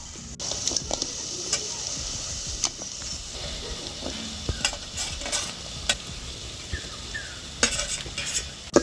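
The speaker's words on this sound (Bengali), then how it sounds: "পেঁয়াজটাকে 2 মিনিট খুব ভালো মতো নাড়াচাড়া করে নিয়েছি।" Onion frying with raisins, green chili and crushed ginger for a green-pea pulao, a soft continuous sizzle under scattered clinks and scrapes of a spoon stirring against the pan.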